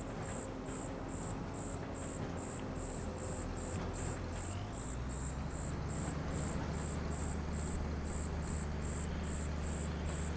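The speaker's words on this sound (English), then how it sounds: "I think they're crickets." In the Farming Simulator 25 video game, crickets chirp at night in a steady rapid pulsing rhythm. A low ambient hum sits beneath them and rises midway.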